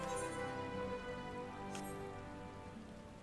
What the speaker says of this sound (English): Raincatcher Gully, it's raining.